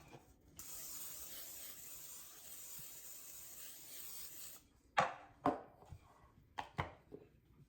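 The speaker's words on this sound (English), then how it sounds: "spray this pan and get it out of the way" A steady hiss of cooking spray from a can onto a baking pan lasts several seconds, followed by a few sharp knocks and clatters of the pan being handled.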